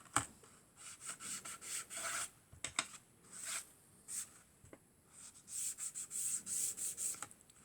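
Ink pad being rubbed along the edges of decorative paper for a Christmas mini album, giving soft, repeated scratchy strokes in short bursts with brief pauses, close and quiet.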